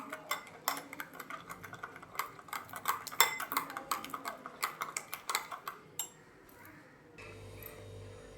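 A spoon stirring sugar and black salt into boondi raita in a bowl, with rapid close clinks and taps against the bowl for several seconds. The tapping stops and a quieter sound follows.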